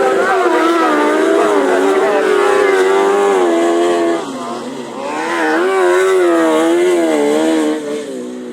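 Grasstrack racing motorcycles roar loudly and continuously down the back straight on the final lap, engines revving in rising and falling waves with a brief dip as they brake into the pit corner before accelerating hard again; a commentator talks over them.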